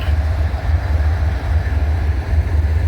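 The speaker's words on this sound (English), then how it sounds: "That's a manifest train. It's got a lot of covered hoppers on there, but we got a coil car back there carrying coils of steel in it." A manifest freight train with many covered hoppers and a coil car loaded with steel coils rolls past in Abbeville, South Carolina, a continuous heavy rumble of rail cars at close range.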